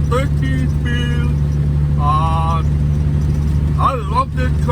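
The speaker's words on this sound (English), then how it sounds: "The truck is a 2000 Peterbilt 378, so it's got a short hood, but it's a very nice truck." A 2000 Peterbilt 378 short-hood truck with a 13-speed transmission rolls along with a steady low engine drone heard from the cab, while someone talks over it.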